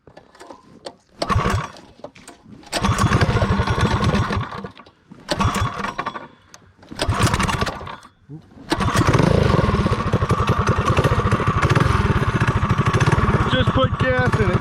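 A Predator 212 engine on a torque bug kart starts with several pulls, giving short bursts of loud sputtering engine noise between pauses, then settles into a steady, close, rough-running idle.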